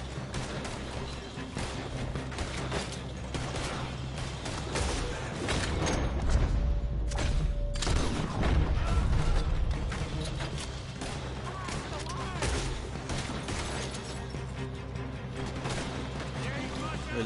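Gunfire in Red Dead Redemption 2, a dense continuous barrage of shots and impacts with a heavier stretch in the middle, mixed under someone talking throughout.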